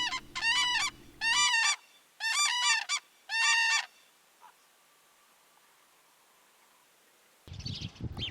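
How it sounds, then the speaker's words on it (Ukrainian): Common cranes give loud, trumpeting bugled calls in four close bursts, then fall silent, with a brief noisy patch at the very end. "журавель."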